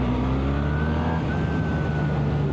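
A 2025 BMW R1300R motorcycle accelerates hard in third gear, its engine note rising steadily as the bike pulls away, loud and close throughout with no voices.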